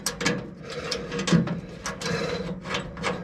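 Small metallic clicks and scrapes from a nut being threaded onto a hot rod A/C fitting, close up, coming in irregular short taps and rattles.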